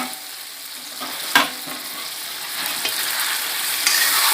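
Chicken curry with pumpkin stirred in a hot pan, a steady close sizzle of frying with a spoon scrape and a sharper knock near the start, continuing without talk.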